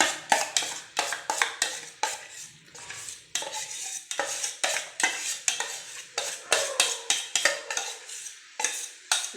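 Spoon stirring thick urad dal kali in a pan, rhythmic scraping and clacking strokes repeating steadily, close up with faint frying underneath and no voices.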